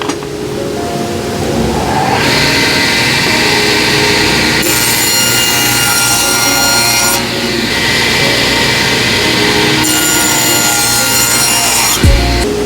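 A table saw rips a strip from a scrap of wood, a steady loud whine and rasp for about twelve seconds that changes pitch in several stages as the blade loads and clears, then cuts off at the end.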